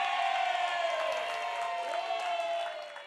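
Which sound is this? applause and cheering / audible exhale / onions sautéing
applause and cheering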